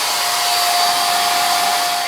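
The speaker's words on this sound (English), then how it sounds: "So it's pretty quiet for a blow dryer. That's high. And then we got turbo." A Head Kandy blow dryer runs on its turbo setting, a loud, steady whooshing roar of rushing air with a thin constant whine. It is close up and continuous, with no voices.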